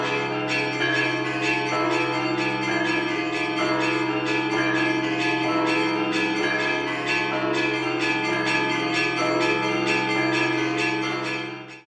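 A choir imitates a pealing church bell in Rachmaninoff's All-Night Vigil, higher voices chiming at a quicker tempo over slower, deeper tolls. The sound is dense, sustained and loud throughout, fading only at the very end.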